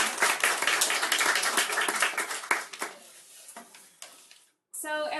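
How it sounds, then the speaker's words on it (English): Applause from an audience at a university MFA reading for a reader, dense clapping that thins and fades out over a few seconds before a brief silence and a voice begins. "So a round of applause, please."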